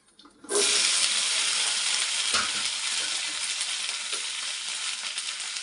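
Okra hits hot oil in a pan and bursts into a loud, steady sizzle that starts abruptly and then continues evenly with faint stirring clatter.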